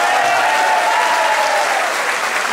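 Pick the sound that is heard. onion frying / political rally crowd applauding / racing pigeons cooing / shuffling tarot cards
political rally crowd applauding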